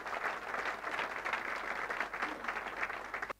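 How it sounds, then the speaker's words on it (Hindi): An audience at a company business seminar gives the company a burst of dense, steady hand clapping that lasts a few seconds and then cuts off abruptly. "एक बार कंपनी के लिए भी जोरदार ताली होना चाहिए"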